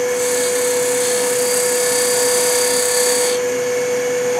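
A wood lathe spins a turned four-sided jar while a skew chisel cuts, a loud steady high whine with a constant tonal hum, continuous and without talk.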